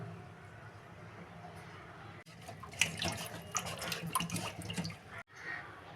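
Fish being rinsed under a running kitchen tap, water splashing steadily into a sink for a few seconds with brief handling noises, fairly faint, after a quieter stretch of room sound.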